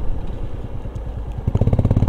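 A motorcycle idles with a steady low putter, and near the end the engine revs up louder with a rapid chugging pulse as the bike is moved into a parking spot in Leh.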